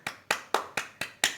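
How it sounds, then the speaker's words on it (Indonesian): Six sharp, evenly spaced claps from a group at a classroom guidance session, each landing together in a steady beat, close and fairly loud with nothing else heard. "tepuk tangan buat kita semua"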